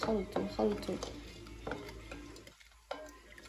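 Salt water being stirred in a container with a washed egg placed in the middle, used to test brine for salting Tunisian baklouti peppers; soft close swishing and light clinks, with speech-like sounds in the opening half.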